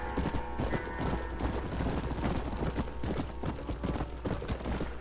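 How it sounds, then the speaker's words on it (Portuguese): Horse hooves clip-clop at a fast, steady gallop in Red Dead Redemption, with rapid rhythmic hoofbeats throughout, loud and close, alone. "Você pode ir com o cavalo na velocidade máxima."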